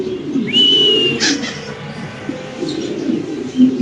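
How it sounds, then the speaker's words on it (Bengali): Large Spanish pigeons coo at a pigeon farm, low throaty rolling coos repeating close by, with a brief whistle-like bird call near the start. "এখানে আছে একজোড়া কবুতর বিশাল বড় সাইজের"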